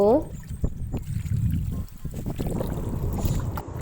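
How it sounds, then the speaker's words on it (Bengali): Water sloshes and trickles as meat is rinsed by hand in a bowl, close and continuous with soft splashes, while a voice talks over it. "এবার মাংসটা ভালোভাবে ধুয়ে নেব।"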